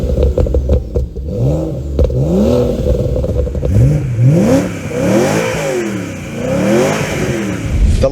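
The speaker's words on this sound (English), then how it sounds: "as far as 4 cylinders go, it's not a bad sounding engine" A small four-cylinder car engine revs up repeatedly in quick bursts, each climb rising and falling, loud and close with some rattling between pulls.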